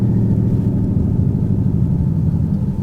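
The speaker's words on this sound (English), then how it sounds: "it rev matches, and it sounds incredible with the windows down" A 2023 Ford Mustang GT Premium V8 with a six-speed manual rumbles low and steady while driving, a deep throaty engine drone with no talk over it.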